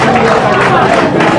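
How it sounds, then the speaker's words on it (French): A large crowd applauds and cheers for a half-marathon runner at the Porto-Novo race finish, a dense, continuous wash of clapping and crowd noise filling the short moment. "Applaudissez très fort pour lui."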